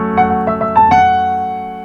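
Short synth melody from a dance-pop song, a few bright sustained notes stepping over a steady harmonic pad, played clearly with no voices.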